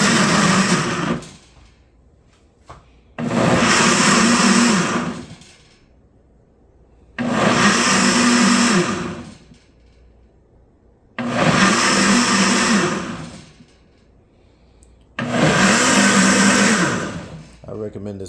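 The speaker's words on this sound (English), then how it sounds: "I recommend this blender anytime." A blender whirs through five loud bursts of about two seconds each, separated by short pauses, as it blends carrots into juice.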